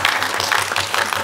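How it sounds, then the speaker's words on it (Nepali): Loud, dense applause from an audience at a live Nepali dohori folk song event, a steady burst of many hands clapping close by with no talk over it. "उहाँलाई जोरदार ताली"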